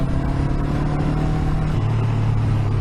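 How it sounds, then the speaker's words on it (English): Engine of a Honda CB500X motorcycle on the Marron Valley Road, throttle eased off, giving a steady, loud low drone with a throaty hum that carries through the whole stretch. "when you lay off the throttle, it's actually kind of a real nice throaty sound."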